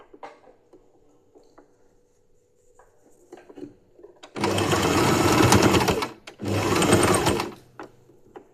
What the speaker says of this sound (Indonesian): kita harus menggunakan sepatu jahit untuk keliman seperti itu ya,